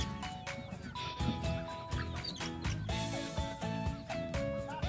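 Native free-range chickens clucking on a small farm, a busy cluster of overlapping clucks and calls heard fairly close amid steady background noise, with a faint voice now and then.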